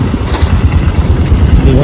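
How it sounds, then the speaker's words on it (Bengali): A motorbike engine runs steadily at low revs as the bike turns around on a road under construction, a continuous nearby rumble throughout. "বাইকটা ঘুরে যাচ্ছে।"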